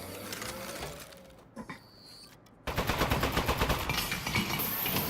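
Turret in the video game Desk Job opening fire after a quieter stretch, letting off a rapid, evenly spaced burst of loud mechanical gunshots that carries to the end.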